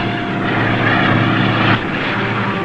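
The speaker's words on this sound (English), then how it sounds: "Aircraft bearing 270, position angle 30 degrees. The plane is a BBY." A propeller aircraft, apparently a patrol bomber out of St. Thomas, drones loudly and steadily as it approaches, its engine noise continuous with a slight shift near the end.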